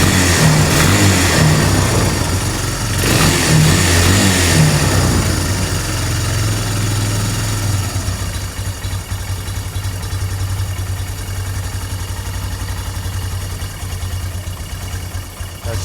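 A used four-wheeler ATV engine idling steadily while it warms up after needing the choke to keep running, a loud, close, continuous rumble with a rougher, busier stretch early on before settling into an even drone.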